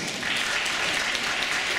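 Short burst of audience clapping at a university concert hall during band introductions, a steady dense patter of many hands at moderate volume.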